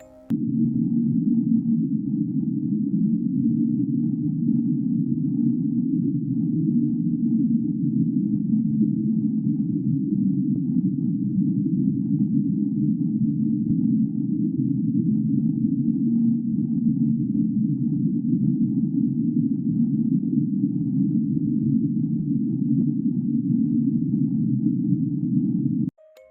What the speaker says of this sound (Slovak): Tento zvuk bol taktiež zaznamenaný a niektorí veria, že ho spôsobila obrovská masa ľadu.